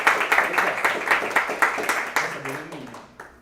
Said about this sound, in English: A big applause for our speaker of tonight.